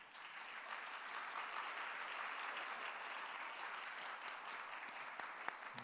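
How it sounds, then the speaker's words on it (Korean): A church congregation claps steadily for a newly appointed choir conductor during a Sunday youth worship service, a dense, even round of applause from a seated crowd that holds throughout at moderate distance. "우리가 박수로 화답하도록 하겠습니다"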